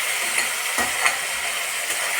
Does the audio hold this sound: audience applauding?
no